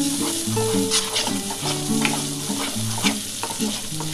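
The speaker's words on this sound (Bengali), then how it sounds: "দিয়ে ভালো করে মশলাটা কষে নিতে হবে।" Spice paste with chilli powder, sugar and salt fries in hot oil for an egg poach curry, a constant close sizzle broken by scraping stirs of a spoon against the pan, with music playing over it.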